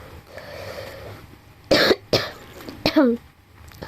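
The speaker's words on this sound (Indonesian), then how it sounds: "maaf, saya batuk" A few sharp, close coughs from a woman teaching a Japanese grammar lesson, bursting out in quick succession between quiet pauses, with a short throat-clearing sound at the end.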